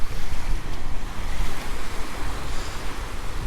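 Surf washes steadily onto Alcudia beach in Mallorca, a continuous close rumble of breaking waves with wind buffeting the microphone throughout.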